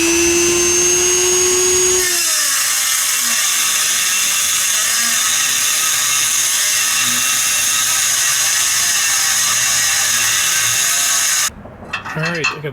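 A cutting wheel grinding into the metal of a 1964 Corvette rear bumper, a loud, sustained high whine that starts and holds for about ten seconds before cutting off, with speech briefly heard afterward.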